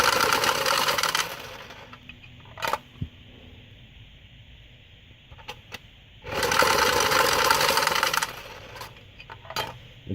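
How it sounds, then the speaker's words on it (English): A deck of playing cards is riffle-shuffled and stripped: two loud, fluttering riffle bursts with sharp card snaps and taps in between, close and clear, with no talk. "Do a good shuffle procedure, but also do that thing. It's called stripping the deck."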